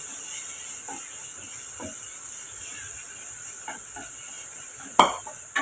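Ground coconut is stirred into a homemade fenugreek curry in a hot pan, with a continuous sizzle and hiss under soft, repeated spoon scrapes and a sharp metallic clink near the end.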